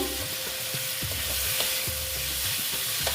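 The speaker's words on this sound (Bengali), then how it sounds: "ওই একটু কষিয়ে দিচ্ছি" Spices frying in a pan with pumpkin and panch phoron, a continuous bright sizzle over a low hum, with regular scraping knocks as the spoon stirs them.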